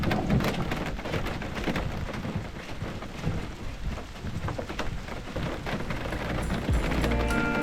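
Torrential rain pours down during a backcountry spring canoe trip in Killarney, a dense, loud, steady hiss and patter of heavy drops that fills the whole stretch with no voices.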